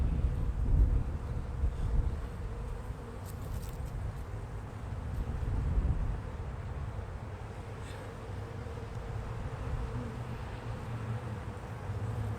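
A calm honeybee colony hums from an open hive during a spring inspection, a soft, steady drone with gentle swells and no voices.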